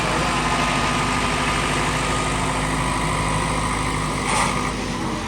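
A heavy diesel tractor engine idling close by, a steady low rumble that continues without a break.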